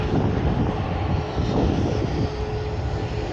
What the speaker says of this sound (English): there you can see a Ryanair Boeing 737 MAX 8-200